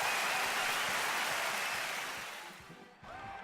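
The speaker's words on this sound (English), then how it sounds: "Everybody clap." Dense applause from a crowd of about 3,000 people at a game night fills the air, gradually fading out before a brief lull and a faint resurgence.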